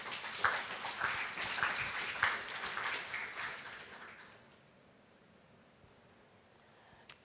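A conference audience applauds a speaker, former Prime Minister Ansip, with a moderate, somewhat distant round of clapping that lasts about four seconds and then fades to quiet room tone.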